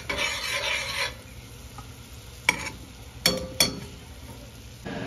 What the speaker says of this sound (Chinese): 所以可以开始搅拌了。